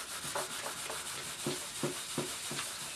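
Sandpaper lightly rubbing over a homemade clayboard panel in a series of soft, even strokes, close and quiet, alone with no talking.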